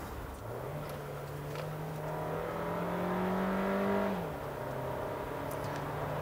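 Jeep Renegade 1.4 MultiAir2 turbo petrol with 140 horsepower heard from inside while driving, a steady engine hum that climbs in pitch as it pulls, then drops back at a gear change and settles to an even drone.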